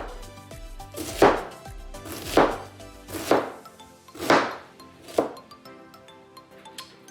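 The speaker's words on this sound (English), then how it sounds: "Cut it into thin slices." A knife cuts pork into thin slices on a board, giving five or six distinct, evenly spaced slicing strokes, each ending in a light thunk, close up with no talking.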